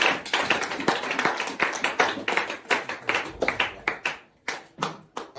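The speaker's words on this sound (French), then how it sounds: "Pour applaudir pour Jésus." Congregation clapping for Jesus at a church service, many hands beating a lively steady rhythm together, loud and close, with a brief pause near the end before the clapping resumes.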